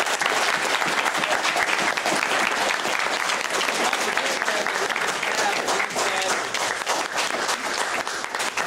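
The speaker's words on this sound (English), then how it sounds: "so give him an applause" Sustained applause from a convention audience at a Bronies fan panel, dense steady clapping filling the room for several seconds without letup.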